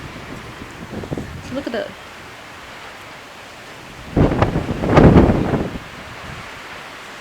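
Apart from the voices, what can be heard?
strong wind blowing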